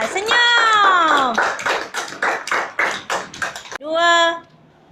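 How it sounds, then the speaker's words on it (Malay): A class of children in a Malaysian primary classroom claps in a quick, loud burst of overlapping hand claps, with children's voices shouting and chanting just before and after. "tepuk tangan untuk diri sendiri. Kuat-kuat"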